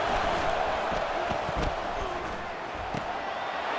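A home crowd roars steadily at a Clemson vs LSU college football game as the defense lines up on third down, a dense, continuous wall of cheering with scattered shouts and claps.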